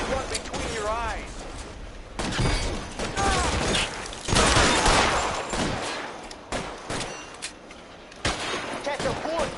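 Bursts of gunfire from a PS4 shooter game crackle in repeated volleys, with rapid shots clustering loudly between other passages as a voice speaks over the action.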